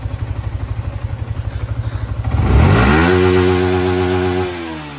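A Yamaha R15 V3 motorcycle fitted with an MT-15 sprocket runs in first gear on a paddock stand, a steady pulsing idle giving way to a loud rising rev that holds high, then settles, close by.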